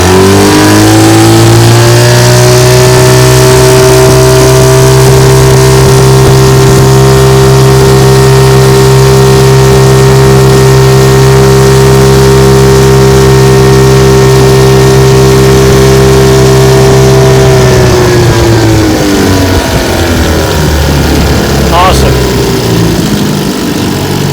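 A restored 1950 Johnson TN-28 5 HP outboard motor runs loud and steady on a bayou test run, its strong droning hum holding for a long stretch before slowing and dropping in pitch.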